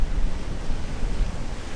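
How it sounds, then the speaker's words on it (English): Big ocean waves break on the shore at dawn on a rough, stormy coast, making a continuous loud roaring wash of surf mixed with wind buffeting the microphone. "Big old waves moving through here as well"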